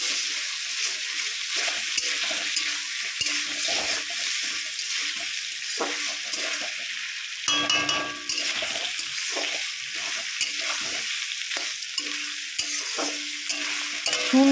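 Potatoes fry in oil with a spice paste: a constant soft sizzle broken by repeated rhythmic stirring scrapes and clinks of a utensil against the pan, close and moderately loud.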